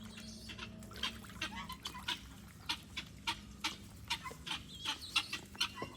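A senior Pekin duck at a farm animal sanctuary quacks at close range in a rapid series of short, repeated calls over a quiet background.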